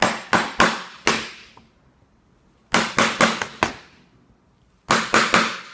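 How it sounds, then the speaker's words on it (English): Chisel struck with a hammer to cut across the grain of wood: three sets of sharp, close wooden knocks, four blows each, in quick rhythmic bursts separated by short pauses. "So I'm going to get a chisel and I am going to make a series of cuts going across the wood"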